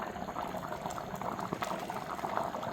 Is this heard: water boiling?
yes